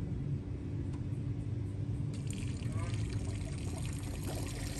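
Coolant poured into the top hose of a Subaru Tribeca engine during cooling-system diagnosis, a steady rushing, trickling flow over a constant low rumble, close up.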